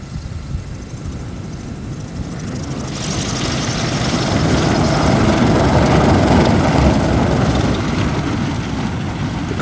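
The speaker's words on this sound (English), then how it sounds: "the plane monitors the elephant for some time." A small monitoring plane flies over an airstrip during an elephant collaring operation, its engine drone swelling from moderate to loud and sustained as it passes overhead, with no voices.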